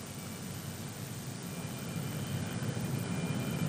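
A Messerschmitt Me 262 jet taxiing: a steady, broadband engine roar, moderately distant and gradually building in loudness, with no talking.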